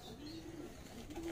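Plosur racing pigeons cooing in a loft, a low steady coo repeating through the short stretch with faint background noise.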